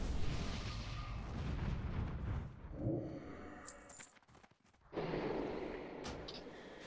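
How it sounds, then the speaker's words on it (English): Heavy rumbling fire blast in the World of Warcraft Nefarian fight, a loud roaring burst that fades into a brief lull before another surge of noise returns. "Here's the fire blast."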